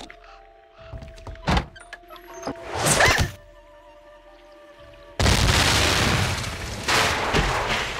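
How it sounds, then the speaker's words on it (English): A sudden loud, sustained crash and roar of shattering ice from a video game explosion on a frozen lake while ice fishing, following a few scattered thunks and knocks over faint game music. "whoever threw that ice ball at me must have set off an explosion that shattered the ice"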